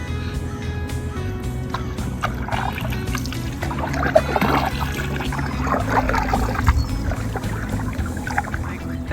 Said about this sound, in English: So the Elliott Lake Wooden Canoe Society, out for a paddle